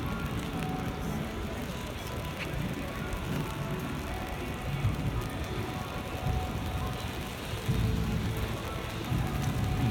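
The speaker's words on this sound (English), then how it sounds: "It's raining right now" Steady rain falls on a downtown Toronto street near Yonge Street, a constant broadband hiss with low traffic-like rumble underneath, holding an even level throughout with slight swells toward the end.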